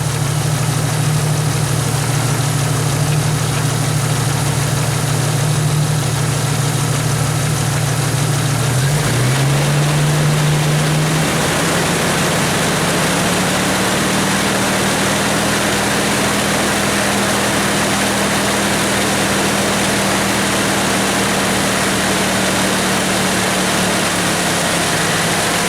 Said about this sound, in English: I'm going to reach over to the engine, run it up to about 1500 RPM